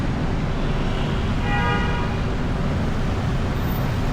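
Busy Bangkok street traffic with cars and tour buses makes a constant loud roar of engines and road noise, and a car horn toots briefly partway through.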